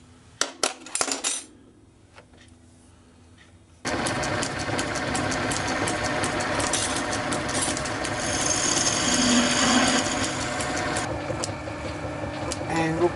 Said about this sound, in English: So I'm just going to machine that down until it's half inch diameter, nice finish.